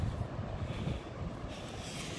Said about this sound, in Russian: Ветер есть, но небольшой.